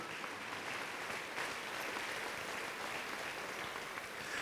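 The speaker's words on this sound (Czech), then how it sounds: "так то си мислим, що си заслужи потлеск" Sustained applause from an audience at a fashion design show, a steady dense clapping that fills the whole stretch at moderate distance, with no voices over it.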